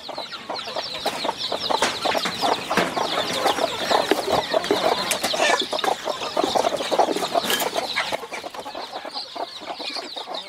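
Free-range native hens cluck continuously alongside high peeping chicks, a busy close-up flock chatter with no talking.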